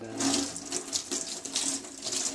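A tap runs steadily while a dirty plate is washed, the water splashing and gurgling close by with small shifts as the plate moves under the stream; no one speaks.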